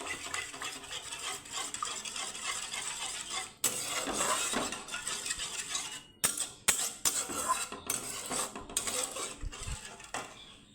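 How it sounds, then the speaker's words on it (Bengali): A spoon stirs spices into thin homemade curd in a pan over a low gas flame, giving irregular scraping, clinking and metallic taps, close and moderately loud, without speech. "এখন আমি গ্যাসের ফ্লেমটাকে স্লো রেখে দইয়ের সাথে মিক্স করে নেব মশলাটাকে"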